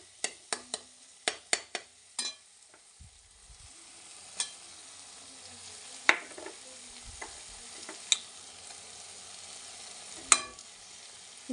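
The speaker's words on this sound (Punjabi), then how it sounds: "ਗੁੜ ਨੂੰ ਵੀ ਆਪਾਂ ਚੰਗੀ ਤਰ੍ਹਾਂ ਮਿਕਸ ਕਰ ਲਵਾਂਗੇ ਵਿੱਚ ਇਦਾਂ ਚੰਗੀ ਤਰ੍ਹਾਂ ਇਹਨੂੰ ਪਕਾ ਲਵਾਂਗੇ" A spoon stirs jaggery into tomato chutney cooking in a pan, giving sharp scattered clicks and scrapes against the pan over a faint sizzle, quiet and close with long pauses between strokes.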